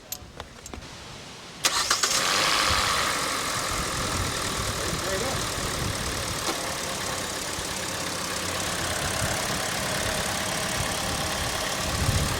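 A truck engine, freshly fitted with new spark plugs, cranks and catches about a second and a half in, then runs loud and rough with a steady roar; voices talk briefly before it fires.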